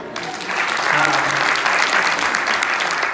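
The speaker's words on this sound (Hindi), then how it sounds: "जोर तो ताली बजा दो।" Loud applause from a seminar and award-function audience, with dense clapping that swells after a brief start and holds steady throughout, while a voice speaks faintly underneath.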